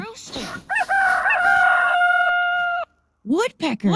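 A loud rooster crows nearby, one long drawn-out cock-a-doodle-doo, followed after a brief pause by a few short clucking calls.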